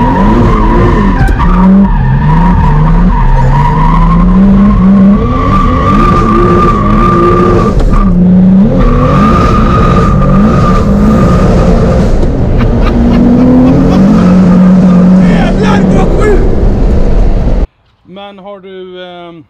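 Modified Volvo 740 sleeper with over 1000 hp, loud rising engine revs and sustained tire squeal as it skids, recorded close, with voices talking over the noise throughout and a brief quieter stretch at the end.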